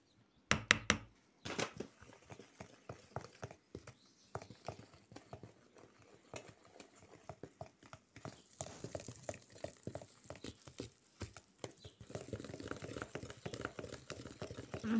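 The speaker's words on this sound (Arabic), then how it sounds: "غادي نخلط كنبقى نخلط وكنزيد في الدقيق" Cake batter being mixed by hand in a bowl while flour is added, a fast stream of soft wet slaps and knocking strokes, quieter at first and growing denser and louder toward the end.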